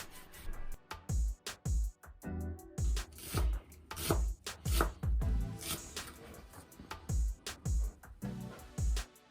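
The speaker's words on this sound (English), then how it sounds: "Start by cutting the onion like this. Take off the top layer and cut it into small cubies." A knife chops an onion into small cubes on a cutting board for a pasta dish, with steady, close, repeated blade strikes that come in quick bursts separated by short pauses.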